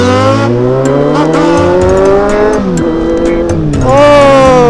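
A Kawasaki Z800 motorcycle on a test ride roars steadily loud and close, its engine pitch climbing and dipping through revs with a sharper surge near the end.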